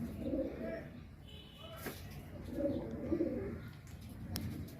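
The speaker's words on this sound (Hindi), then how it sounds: "अब मेरे कबूतर नीचे पड़े हैं वो सारे सफ़ेद" White pigeons coo in low repeated phrases close by, with a few faint chirps and small knocks among them.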